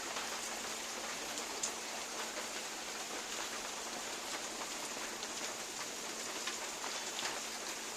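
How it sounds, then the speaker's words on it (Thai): Steady rain falls continuously outdoors where elephants play in mud, a dense even hiss with scattered drops pattering on surfaces throughout. "ฝนตกแล้วครับ"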